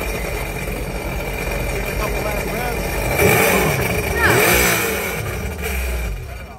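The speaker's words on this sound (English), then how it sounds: "Give it a couple last revs." A Sea-Doo jet ski engine runs on a flushing hose setup and is given a couple of final revs, the roar swelling twice to a louder peak before dropping back toward idle, with a steady mechanical drone underneath.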